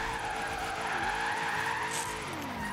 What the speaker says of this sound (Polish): Jeśli mamy samochód z mocnym silnikiem, to jadąc pod górę też można spokojnie sobie driftować.